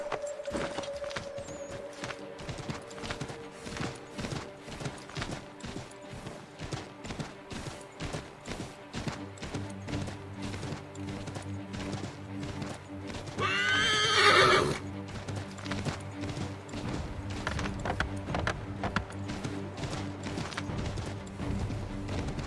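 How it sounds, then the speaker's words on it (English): Rhythmic hoofbeats of a galloping horse in Assassin's Creed III Remastered clop steadily throughout, with one loud whinny near the middle, all set against a low sustained musical background. "Take my horse! Bring him here!"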